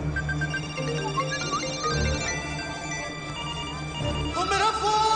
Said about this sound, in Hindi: वो मेरा फोन